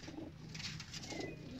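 Flyer pigeons coo softly and repeatedly in a low, throaty rhythm, faint and fairly near, with a few scattered higher chirps and no talking.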